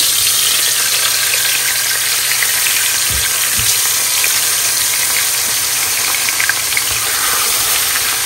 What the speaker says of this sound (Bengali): মাছগুলো ভাজি করি